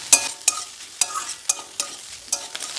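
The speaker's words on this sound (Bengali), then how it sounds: "হালকাভাবে নেড়ে দেবো।" Bengali fish roe curry, macher dimer chorchori, stirred gently in a pan with a steady low sizzle underneath and regular soft scraping strokes of a spoon, about one every half second, with no voices.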